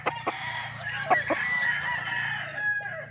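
LDT Boston Millionaire gamefowl rooster with black spurs and white legs, crowing in a drawn-out cock-a-doodle-doo, loud and near, with short clucks before it.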